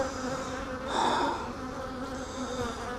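A swarm of honey bees hums steadily around an open hive during an inspection, a close, dense buzz that swells briefly before settling again.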